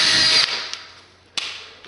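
A power drill boring 8 mm holes into a wall for moulded wall plugs, a loud high whine for about half a second, then a brief second burst after a pause, with no voices.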